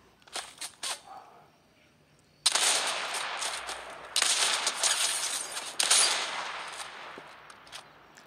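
Gunfire in the video game Fortnite, with a few sharp shots at the start followed by long, loud bursts of rapid fire separated by brief pauses.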